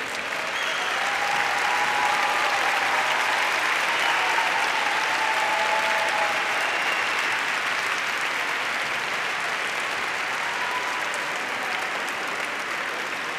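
An audience at a university graduation ceremony gives a long, sustained round of applause, dense steady clapping filling the hall at an even level with faint voices beneath.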